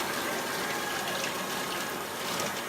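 Running water gushes steadily from a tap as food is washed for street tacos, a continuous, fairly loud splashing rush with no talking.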